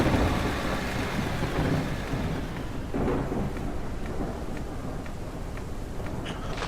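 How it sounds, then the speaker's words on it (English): Thunder rolls over steady rain in the mining video game Out of Ore, a low rumble swelling and easing under a constant hiss of rainfall, with no voices. "It's always raining here."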